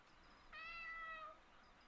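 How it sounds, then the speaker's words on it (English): A single short cat meow inside a horror exorcism video game, a clear tonal mew lasting under a second against a faint, quiet background. "That's a cat."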